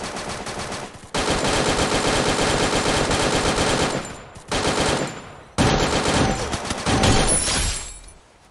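Rapid machine gun bursts from the Free Fire mobile game ring out loud and close, with long sustained volleys broken by short pauses and no speech over them.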